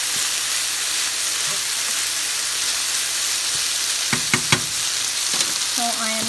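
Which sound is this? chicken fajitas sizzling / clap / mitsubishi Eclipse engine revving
chicken fajitas sizzling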